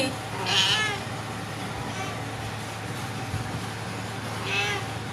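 A house cat meows in two short calls, one near the start and one near the end, with steady low background hum between them and no talking.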